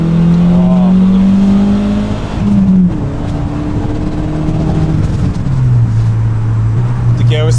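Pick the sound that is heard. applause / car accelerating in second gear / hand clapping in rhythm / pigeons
car accelerating in second gear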